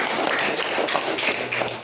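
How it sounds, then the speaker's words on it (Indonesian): Students in a classroom clap for a classmate named Nabila, a short burst of close, fairly loud hand claps with a loose, tapping rhythm. "Tepuk tangan buat Nabila."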